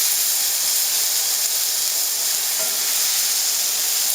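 Eggs stirred into tomato in a hot pan give off a loud, constant hissing sizzle of steam, dense and unbroken throughout, with faint soft knocks beneath.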